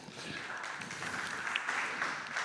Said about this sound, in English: a short round of applause for the technicians for helping me out here